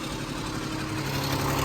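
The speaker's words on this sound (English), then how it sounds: "So at low RPMs, it don't sound too hot." An Allis Chalmers 7020 tractor engine idles at low RPM, a steady, rough, continuous rumble close to the listener with no voices over it.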